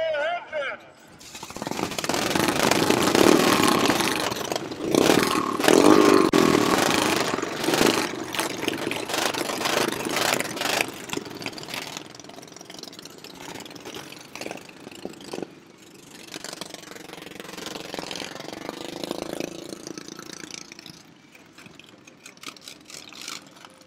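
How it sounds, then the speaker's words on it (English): Race car engines at a racing event crank and fire up, then settle into a rough, rattling idle that fills the space, loud at first and easing to a steady, busier drone, with voices mixed in. "Drivers, start your engines!"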